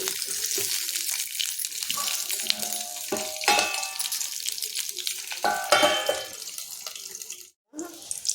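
Ivy gourd (tondekai) fries in a pan in home cooking, giving a bright sizzle that comes in bursts with stirring scrapes, briefly cutting out near the end, and faint speech runs beneath it.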